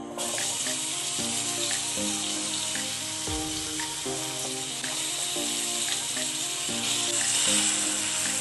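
Cut potatoes sizzle in hot oil in a heated pan, a steady close frying hiss that runs throughout while tonal background music plays underneath.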